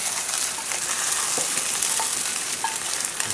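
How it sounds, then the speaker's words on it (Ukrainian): Beef brains and onions fry in a pan with a constant close sizzle and light crackle, plus faint scraping as the mixture is stirred. "Тепер це все жаримо, доводимо до готовності."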